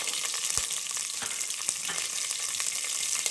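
Green chillies sizzle steadily in hot oil in a pan for vegetable upma, a close, continuous frying crackle with a few sharper pops and no talk.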